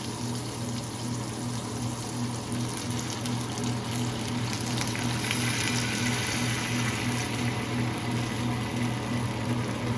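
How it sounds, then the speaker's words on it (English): Canned beef consomme poured into a cooking pot, a steady, continuous liquid splashing and gushing that stays even and close for ten seconds with no voices. "we're going to add in a can of beef consomme"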